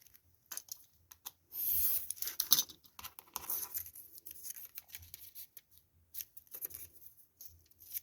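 Scissors snip and slice through paper for a Christmas craft, a series of close, crisp cuts in irregular bursts with brief pauses between strokes.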